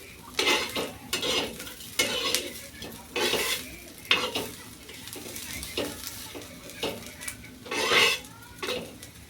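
Roasted masala being stirred in a pan, with repeated scraping strokes of a utensil and a soft sizzle, steady and close, no talking.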